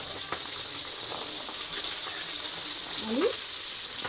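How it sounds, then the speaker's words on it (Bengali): Potatoes frying with onions in a pan, a steady soft sizzle running throughout with faint scrapes and light stirring, close by and fairly quiet. "আলুটাকে ভালো করে ভেজে নিতে হবে।"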